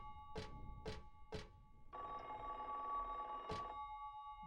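Telephone ringing in the video game Silent Hill 3: three short, sharp rings, then a longer sustained ring tone, then one more brief ring, clear against a quiet background.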